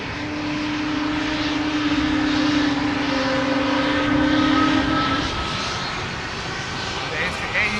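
Loud rumble of an Atlas Air Boeing 747 departing Amsterdam Schiphol, with a steady whining engine tone that fades after about five seconds, over faint background talk.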